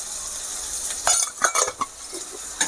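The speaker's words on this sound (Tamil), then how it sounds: "இது நல்லா வதக்கிக்கிறேன்" Masala sizzling in a hot pan for a capsicum gravy, with a steady frying hiss and several sharp scrapes and clinks of a spoon stirring against the pan, close and fairly loud with no talking.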